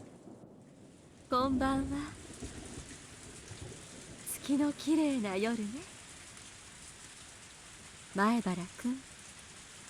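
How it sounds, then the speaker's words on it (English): Heavy rain falls in the video game Higurashi: When They Cry as a constant downpour hiss running beneath a woman's soft Japanese speech. "It was raining far too hard to see the moon."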